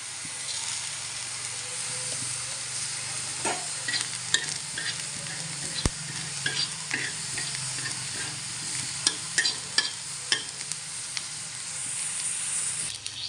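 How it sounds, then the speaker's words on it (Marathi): Coriander seeds dry-roast in a pan, a soft continuous hiss beneath frequent scraping stirs and light rattling clicks from the spoon against the metal, close and fairly quiet, no speech. "आता थोडे मी धने भाजून घेते।"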